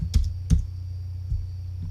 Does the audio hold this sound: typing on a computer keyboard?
yes